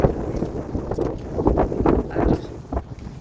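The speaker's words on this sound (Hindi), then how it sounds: "देखो कितनी तेज हवा चलने लग रही" Strong wind gusting outdoors in a rural setting near fields, a steady rushing roar with bursts of buffeting against the microphone, loud and continuous throughout.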